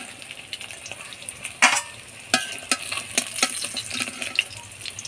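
Pieces of katla fish fry in oil in a pan, with a soft sizzle broken by several sharp scraping clatters as they are stirred and turned, heard close.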